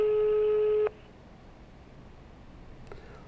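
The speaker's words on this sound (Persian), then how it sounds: "داره تلفن زنگ میزنه اما ایشون جواب نمیده" A telephone line tone that holds steady for about a second and then cuts off abruptly, followed by low line hiss and a faint click.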